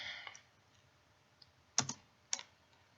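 A few faint keystrokes tap on a computer keyboard while a Java command is typed, in a quiet room with sparse, uneven clicks and a couple of sharper presses.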